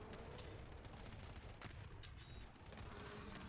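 Rapid, dense gunfire from the survival horror game GTFO, with rattling bursts of automatic shots rolling one after another in a sustained fusillade.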